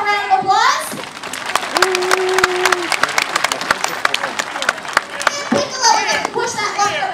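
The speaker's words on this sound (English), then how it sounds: "Let's give him a round of applause." Crowd applause at an African safari elephant show, a loud mix of clapping and excited chatter with children's voices and cheering at the start and end, sustained throughout.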